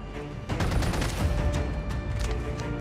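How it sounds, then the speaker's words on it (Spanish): Gunfire in Call of Duty while playing with an AK-47 loadout, a dense stretch of rapid shots and bursts, loud and continuous after a short quieter lead-in, with booming impacts mixed in. "Escucho disparos y al parecer no están tan lejos."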